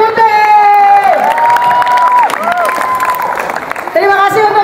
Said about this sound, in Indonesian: Oke, tepuk tangan buat Mas Dapi.